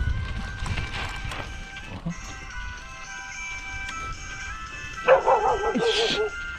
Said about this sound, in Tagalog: Kala ko nakabitaw yung aso.